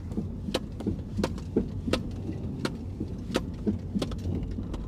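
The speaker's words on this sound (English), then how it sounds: "it's just a really nasty clunking noise" Several sharp clunks knock at irregular intervals from a car's suspension as it rolls over bumps, each thud standing out against a steady low road and engine rumble, recorded from inside the cabin.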